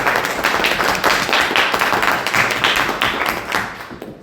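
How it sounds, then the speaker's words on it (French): Studio audience on a French TV game show applauding, a dense burst of many hands clapping steadily at close range for about four seconds before tapering off. "Je trouve ça un petit peu violent comme applaudissement"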